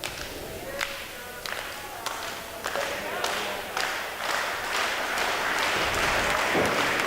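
A wrestling crowd at a pro wrestling show claps in rhythmic, steady unison, the claps loud and regular before blending into broader applause, with commentators talking over it.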